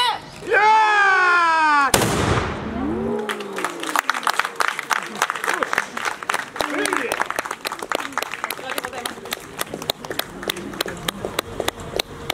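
A matchlock gun corps fires a volley at a festival shooting demonstration, a loud sharp blast opening a long, thick run of crackling applause and crowd noise, with a voice shouting beforehand.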